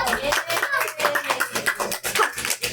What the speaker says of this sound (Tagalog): Palakpak mo, Otin